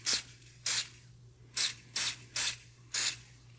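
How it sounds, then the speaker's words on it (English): Six short hissing bursts of CA glue activator sprayed onto a wood ring blank, close and crisp in an irregular rhythm, over a faint steady hum. "So let's hit it with some activator."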